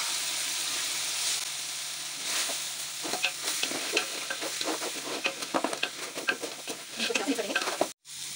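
Meat cooks in a pan with crushed red chili, salt, and ginger-garlic paste, sizzling steadily with bubbling crackles as it is stirred, fairly close and continuous until a brief cutoff near the end.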